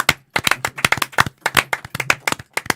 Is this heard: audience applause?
yes